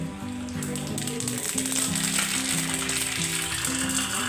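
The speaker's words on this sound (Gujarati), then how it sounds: "તલ ઉડે એટલે થોડા ઢાંકવા પડે એવું વઘાર જો આપણો સરસ થઈ ગયો છે" Sesame seeds crackle and splutter in hot tempering oil as the seasoning is made for rava dhokla. A dense, steady sizzle of fine pops runs close and clear throughout, with music playing underneath and no talk.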